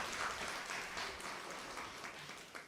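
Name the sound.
audience applause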